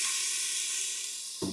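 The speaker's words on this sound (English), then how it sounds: "can you hear the sizzle? That's what you want." A steady, bright hiss of steak sizzling in a Ninja air fryer fills the short clip, ending with a brief clunk.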